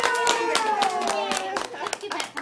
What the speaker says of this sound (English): let's give Daniel a round of applause